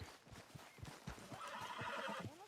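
A horse whinnies and neighs in Red Dead Redemption 2, a rising, wavering call near at hand over hoof clops and background game ambience.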